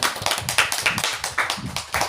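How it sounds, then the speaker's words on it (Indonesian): Classroom applause for a student group, a small cluster of distinct hand claps in an uneven rhythm, moderately near and fairly quiet, lasting about two seconds. "berikan tepuk tangan untuk kelompok 1."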